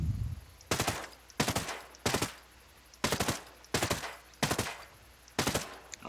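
Assault rifle fire in the video game Ghost Recon Breakpoint: seven sharp, loud bursts spaced about a second apart, each a short rapid volley, with quiet gaps between and no talking.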